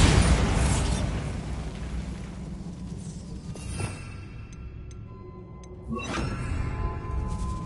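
A Bombarda blasting spell explodes in Hogwarts Legacy with a loud booming burst that decays into rumble, followed by a second, softer blast near the end.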